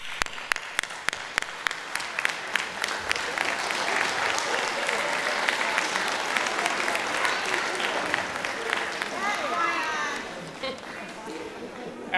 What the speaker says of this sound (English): applause, please. So let's stand up.